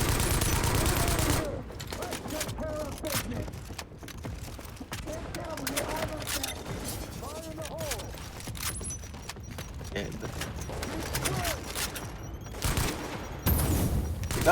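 Rapid automatic turret gunfire in The Division video game, sustained bursts over a dense mix of game effects and music, with a louder opening burst and a player talking over it.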